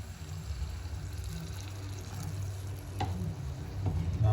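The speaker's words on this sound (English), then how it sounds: "next, we add in about 1 cup of water first" Water pours into a pan of frying garlic and curry leaves for a black pepper sauce, a soft splashing hiss over low sizzling that swells louder toward the end, with a light clink midway.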